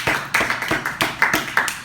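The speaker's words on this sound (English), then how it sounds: "Can we get a round of applause for that?" Sparse clapping from a small seminar audience, a handful of distinct, irregular claps heard up close with no talking over them.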